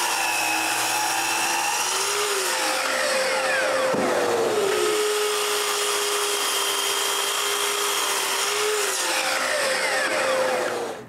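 A power saw cuts pieces of wood for a wooden tripod, first at an angle and then square. It sounds like a loud, steady whining drone whose pitch dips and recovers as the blade bites into each piece, with no talking.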